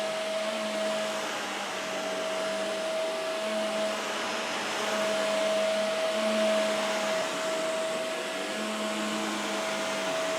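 A vacuum cleaner runs steadily and loudly for about ten seconds, a continuous whirring drone with a constant motor whine and no pauses.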